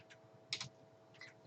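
Fingers tapping a computer keyboard, a few quick soft keystrokes in short clusters, close by and quiet, with no voice.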